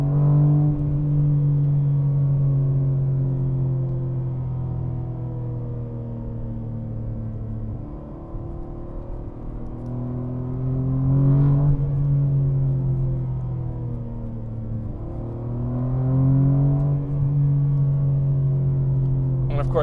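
A BMW G80 M3 rear-drive with a six-speed manual runs on summer tires: a steady low engine drone with road roar, rising and falling in pitch through gear changes and acceleration, close and continuous.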